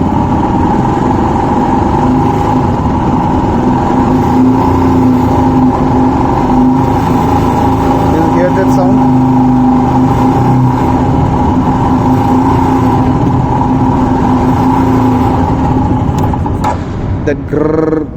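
Royal Enfield Himalayan BS6 motorcycle engine idling close up, a steady rough growling drone with a faint mechanical grr, with someone talking over it.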